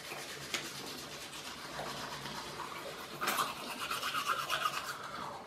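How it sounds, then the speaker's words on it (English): Brushing teeth with a bamboo toothbrush, close soft rhythmic scrubbing and rasping strokes that grow a little louder and wetter toward the end, with no talking. "I am brushing my teeth."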